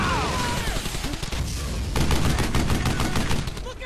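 Rapid gunfire from the video game Brothers in Arms: Hell's Highway, dense bursts of automatic shots that crackle loud and close, building into a sustained barrage with faint shouting mixed in.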